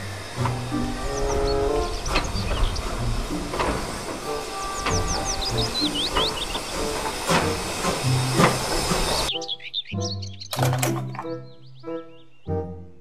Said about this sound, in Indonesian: Kereta Thomas